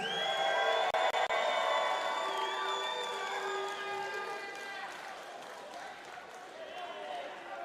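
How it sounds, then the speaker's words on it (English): A crowd at a live wrestling show cheers and applauds for a woman wrestler, loud and sustained with whoops and shouts over the steady roar, easing slightly toward the end. "Everybody give her a big round of applause."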